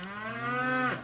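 A cow called Ghostface lets out one long, close, drawn-out moo that bends downward at the end.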